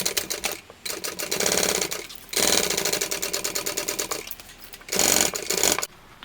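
A sewing machine stitching a seam on a mini tote bag, running loud and close in steady rapid bursts with brief pauses between runs.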